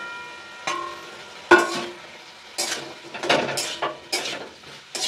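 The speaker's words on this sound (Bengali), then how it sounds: "তো এবার আমি ঢাকাটা খুলে একটু নাড়িয়ে নেব।" A pot lid lifts off with a clank, then a spatula scrapes and stirs vegetables with a hilsa fish head in a pan, giving several short metallic knocks and scrapes over a soft background.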